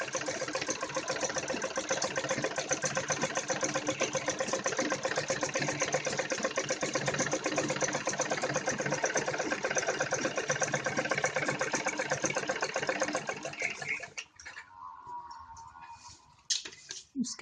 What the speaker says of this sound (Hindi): सबसे पहले सीधी सिलाई लगा लें जिससे ये सेटिंग में आ जाए कपड़ा और ये बुकरम में